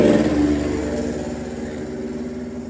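A Yamaha Mio automatic scooter engine revs close by, starting with a loud, buzzing rev that gradually settles into a steady, slightly fading drone.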